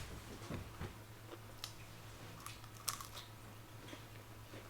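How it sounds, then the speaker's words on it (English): A few soft, crisp crunches from chewing seafood or hushpuppies, close by and fairly quiet, over a low steady hum with no talking. "One more bite with the crunch."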